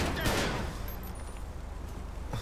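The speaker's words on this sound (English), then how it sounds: "shots fired, shots fired in my location" Gunfire in the video game GTA 5, a burst of rapid shots near the start that gives way to a rumbling, noisy background with one more sharp crack near the end.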